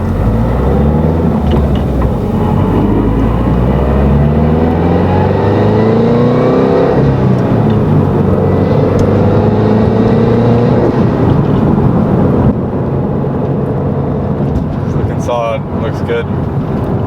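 Turbocharged Subaru Crosstrek with an FB20 engine running an AVO turbo kit at 5.5 psi of boost, accelerating at half throttle. The engine note climbs steadily and loudly through the revs from inside the car, then eases off near the end.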